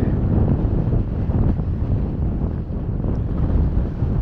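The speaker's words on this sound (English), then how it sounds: "It's gonna be windy" Gusty wind at Dead End Beach in Jamaica buffets the microphone with a loud, steady low rumble that swells slightly and runs throughout, with no voices.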